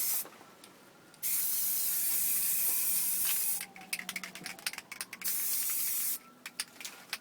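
Primer hisses from a spray can onto an alloy wheel from a BMW, in two long steady bursts, each followed by shorter sputtering puffs, close and loud with no talking.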